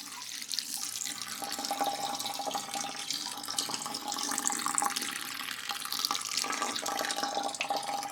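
Wort drains steadily from a Grainfather grain basket during a stout brew day, a continuous close trickle and splash of liquid running down into the vessel below, with no talk over it.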